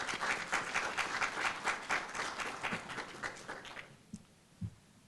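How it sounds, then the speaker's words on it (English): Conference audience at an opening ceremony clapping for commissioners, a fairly close patter of applause that dies away after about four seconds, leaving a few stray claps. "Please join me in giving them a round of applause."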